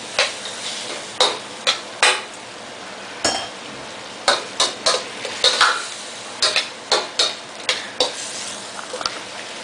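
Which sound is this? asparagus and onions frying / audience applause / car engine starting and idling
asparagus and onions frying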